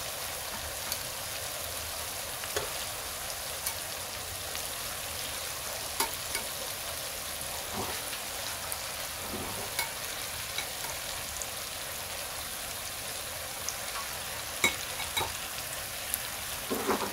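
Boiled beef mixture frying in a pan with a steady, soft sizzle and occasional light stirring scrapes, fairly quiet and continuous with no voices.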